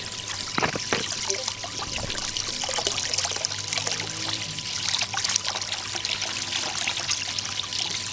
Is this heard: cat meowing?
no